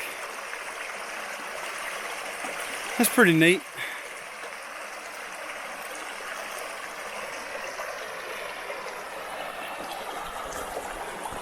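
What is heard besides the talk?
creek flowing in the Ouachita National Forest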